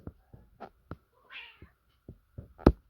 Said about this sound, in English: my cat's fighting in the background as well